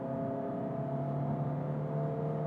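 A 2022 Peugeot 308 GT diesel holds a steady engine drone with a low tonal hum under hard acceleration during a launch on uneven ground, heard continuously from inside the car.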